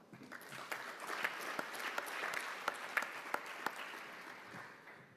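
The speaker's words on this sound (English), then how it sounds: "I would like to ask us to applaud Capo Verde for the offer" Applause from delegates at a high-level water dialogue in Rome, a soft, fairly distant wash of clapping with a few sharper individual claps standing out, sustained evenly for several seconds.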